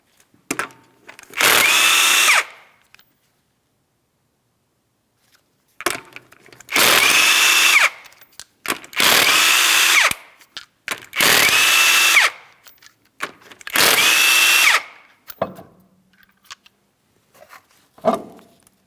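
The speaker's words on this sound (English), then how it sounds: "you're going to remove all 5 of your 19mm lug nuts" A power impact tool zips off five 19mm lug nuts from a Ford Edge front wheel, each removal a loud, close, two-second burst separated by short pauses and faint clicks, with no talking.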